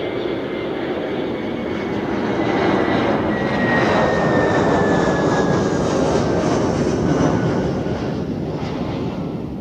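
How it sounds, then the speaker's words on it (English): An Airbus A321 jet airliner arriving from Palma de Mallorca at Zurich Airport passes with a loud, sustained engine roar that swells toward the middle and eases slightly at the end, with no voices. "next we have the A321 from Palma de Mallorca, followed by the A321neo from Geneva"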